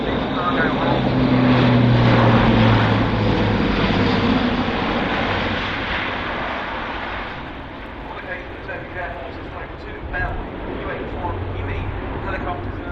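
Airbus A400M Atlas four-engine turboprop military transport in a flying display at the RIAT 2017 airshow, a loud sustained propeller and engine roar that slowly fades as it passes, under a public-address commentator's voice.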